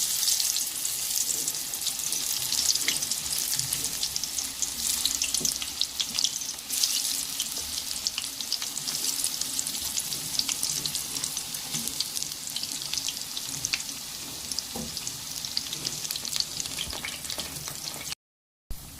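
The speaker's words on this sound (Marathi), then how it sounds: "यामध्ये एक एक करून आपल्याला हे आळूवडी तेलामध्ये छान असे सोडायचे आहेत" Alu vadi, rolled taro leaf slices, frying in hot oil in a pan: a steady, dense, crackling sizzle that runs continuously and close up, with scattered sharper pops, before a brief dropout near the end.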